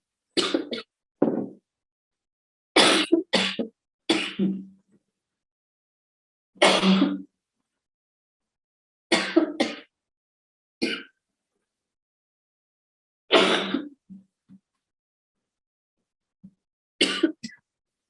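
A coughing fit: about ten harsh, close coughs come in short clusters separated by quiet pauses.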